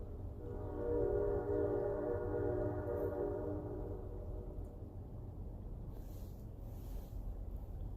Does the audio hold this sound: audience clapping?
no